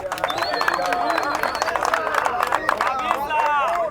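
Members of the Kenyan parliament break into applause, a dense close patter of clapping mixed with crowd noise and murmured voices throughout.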